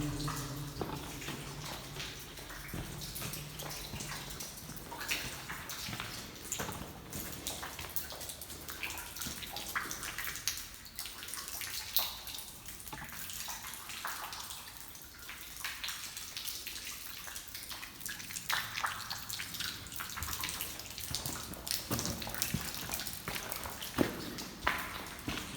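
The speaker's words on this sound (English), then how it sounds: "You can hear the water coming in at this stage." Water flowing steadily into an old enclosed space at a historic Liverpool site, a continuous wet rushing and trickling wash with faint drips that carries on throughout at moderate level, with no voices over it.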